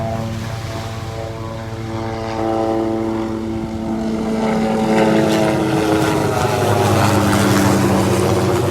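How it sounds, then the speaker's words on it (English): A mosquito control helicopter passes low overhead at a beach, its engine and rotor drone rising in loudness as it approaches, with a strong steady pitch that slowly shifts as it passes. "a noisy helicopter coming up behind me"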